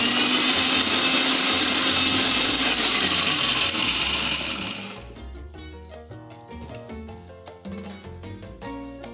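A blender grinds pomegranate seeds with a loud, steady whirring roar that cuts off after about five seconds, leaving quieter background sounds.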